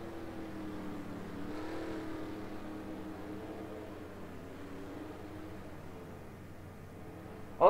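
Race cars idle and roll along pit road in a NASCAR video game, a steady mid-distance engine drone with layered harmonic hum that swells slightly, fades, then ends in a brief sharp burst.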